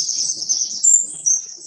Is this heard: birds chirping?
yes